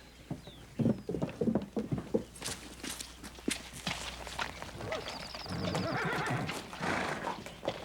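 A horse whinnies loudly in a Western drama, followed by hooves clip-clopping and shuffling steps nearby and a few scattered knocks and rustles, with no speech over it.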